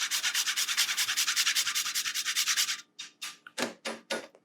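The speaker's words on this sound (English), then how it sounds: "Fresh nutmeg is very powerful." Fresh nutmeg is grated for a carrot ginger soup, with a fast run of steady scraping strokes followed by a few slower separate rasps, close and fairly loud with no talking.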